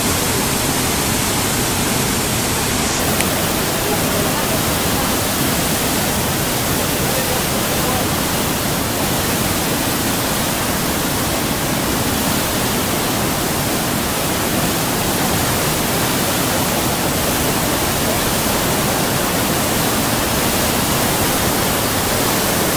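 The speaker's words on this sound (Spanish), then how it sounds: "Miren esa fuerza que trae el río, wow." A powerful river rushes through the narrow canyon of the Estrecho del Magdalena, a loud, unbroken roar of churning water filling the whole stretch, with no voices breaking through.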